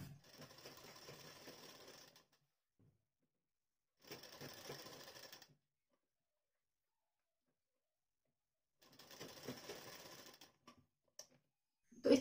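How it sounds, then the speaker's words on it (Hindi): A sewing machine stitches a blouse neckline in three separate bursts of fast, even mechanical whirring and ticking, close and clear, with silent pauses between runs. "पलटने के बाद देखिए हम अच्छे से बनाते हुए गले पर सिलाई लगा देंगे"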